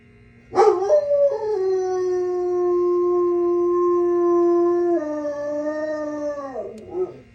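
A dog lets out a long, sustained howl nearby outside a shear-sharpening shop, holding one tone before dropping lower and trailing off into short whimpers.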